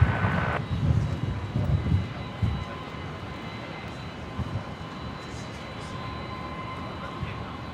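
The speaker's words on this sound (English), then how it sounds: "let's get eyes on the China Airlines just before that begins its roll" A China Airlines airliner begins its takeoff roll on runway 01 right at Brisbane, a steady broad engine roar heard at a distance under light outdoor background noise.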